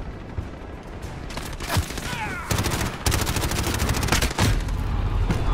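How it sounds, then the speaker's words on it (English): Video game gunfire in a bot lobby match: rapid bursts of automatic shots and sharp single cracks, loud and close, firing almost continuously with brief pauses between volleys. "I keep shooting him every time"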